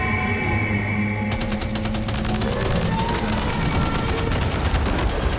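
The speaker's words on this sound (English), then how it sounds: "Machine gun should work." Rapid machine gun fire in the video game Death Stranding 2 rattles in a dense, loud, continuous burst that starts about a second in and runs to the end over lingering in-game ambience.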